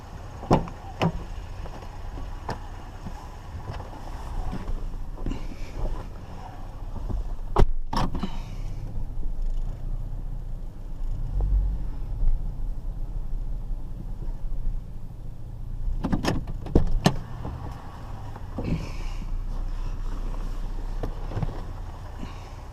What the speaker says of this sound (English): I'm going to pull the truck up a little bit.